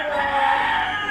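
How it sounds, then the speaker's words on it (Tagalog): Chicken crowing, a loud, drawn-out strained cry heard close up and filling the short moment alone. "Yung manok talaga yung narinig"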